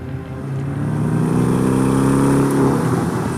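A Porsche 718 Cayman S with a turbocharged four-cylinder engine revs loud and close, a steady, gruff drone that swells slightly as the revs climb.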